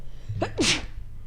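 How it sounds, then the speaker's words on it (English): One person gives a single sharp sneeze, close and clear, a short inhale and then an explosive burst over a quiet background. "I sneezed on it."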